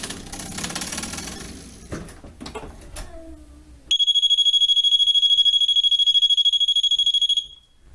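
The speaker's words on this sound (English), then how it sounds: "There's the alarm." A hotel door safety alarm shrieks in a loud, continuous, rapidly pulsing high-pitched tone for several seconds, following a few clicks and handling knocks as the door is opened, then cuts off abruptly.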